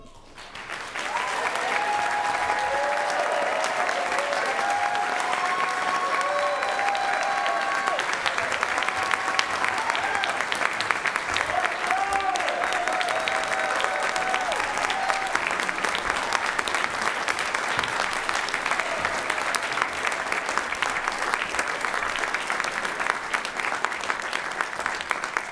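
Applause at a university commencement ceremony rises quickly and holds as sustained, loud clapping from a large crowd for the full length, with faint cheers and calls in the first half.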